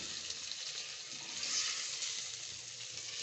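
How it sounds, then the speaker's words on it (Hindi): Pieces of gosht meat fry in a pot for aloo gosht, a steady hissing sizzle with a faint crackle that swells slightly midway, close and even with no voices. "तो अब इसको थोड़ा फ्राई करेंगे इसके साथ"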